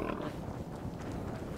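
Pigs in the Don't Starve video game snort and grunt in a steady, dense cluster of close, loud game-audio sounds, with no talking over them.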